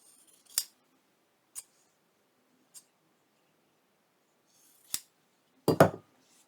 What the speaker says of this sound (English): Let me cut this.